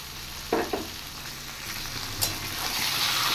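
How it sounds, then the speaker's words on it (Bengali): Finely chopped chicken fries in a hot pan with chopped green chillies, a continuous sizzle with a couple of sharp bursts and stirring scrapes, close and steady, with no voices. "এবার একটু ফ্রাই করে নেব।"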